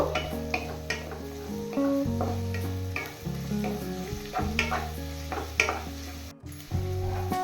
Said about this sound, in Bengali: এবার পেঁয়াজ কুচি 2 থেকে 3 মিনিট আমি ভেজে নেব।